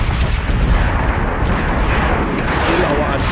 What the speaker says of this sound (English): Still, our artillery is firing.